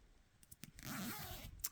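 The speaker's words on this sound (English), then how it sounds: "So when you unzip it," A zipper on a storage pouf is pulled open in one quick, close rasping run lasting about a second, with a few soft handling taps before and after.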